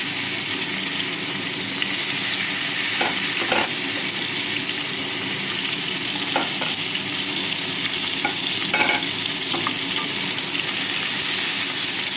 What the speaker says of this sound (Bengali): এবার এই তেলে এক এক করে সব কিছু ভেজে তুলে নেব। প্রথমে দিচ্ছি পটল।